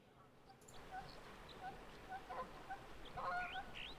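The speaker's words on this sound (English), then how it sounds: "Specifically like Canadian geese." Honking calls like Canada geese in the video game Xenoblade Chronicles X, several short nasal honks scattered over a faint, noisy background, rising in number toward the end.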